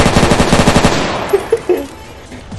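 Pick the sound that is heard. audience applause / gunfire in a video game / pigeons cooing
gunfire in a video game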